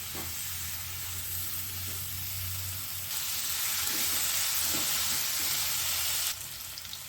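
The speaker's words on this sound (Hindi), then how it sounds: "और हमको हाई फ्लेम पर ही अपनी सब्ज़ी को फ्राई करते जाना है चलाते हुए।" Bottle gourd frying in oil on a high flame while being stirred, a dense continuous sizzle that grows louder and hissier partway through, with faint stirring scrapes and no talking.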